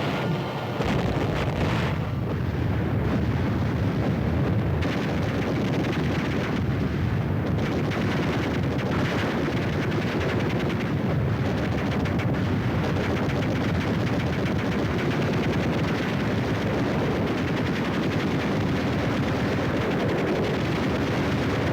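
US Army armored support weapons and artillery from 1957 fire together in a dense, continuous roar of gunfire and blasts, loud and sustained with no breaks.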